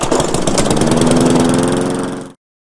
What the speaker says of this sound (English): A lawnmower might be 100 decibels loud when you're near it.